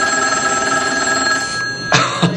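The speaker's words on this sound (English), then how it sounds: "you can't just wait around for the phone to ring" An old-style telephone bell rings loud and steady for about a second and a half, its bright metallic trill running continuously, then stops and is followed by a couple of brief thumps near the end.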